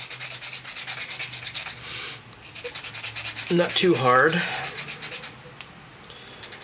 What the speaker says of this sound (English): you take your sanding block and you start sharpening